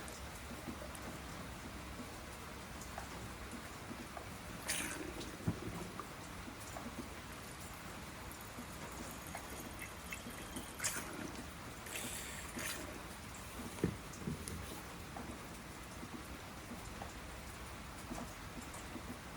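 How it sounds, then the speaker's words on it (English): Water rinsing blank circuit boards during gold refining gives a faint steady patter and trickle, like light rain on a surface, with occasional soft splashes and clinks, no voices. "Give it a good rinse."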